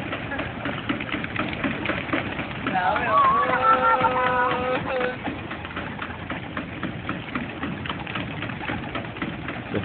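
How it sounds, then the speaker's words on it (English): Birds cooing and calling in a busy outdoor spot, with a brief burst of chirps midway, under steady crowd noise and nearby talking. "Hundred birds."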